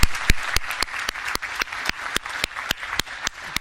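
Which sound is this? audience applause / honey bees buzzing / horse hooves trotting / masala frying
audience applause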